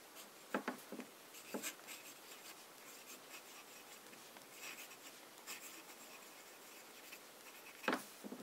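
Fountain pen with an italic nib scratching faintly across paper while writing in Montblanc Carlo Collodi ink, with soft strokes and a few sharper scrapes in a quiet room.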